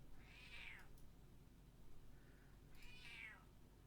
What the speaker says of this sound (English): You'll hear the cat too.